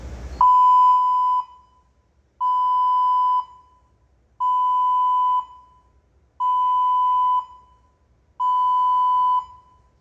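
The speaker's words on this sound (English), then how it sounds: "Fire. Combustible gas alarm." Loud electronic combustible gas alarm on a drilling rig sounding five long tones, each about a second, evenly spaced with short gaps, steady and piercing with no other sounds.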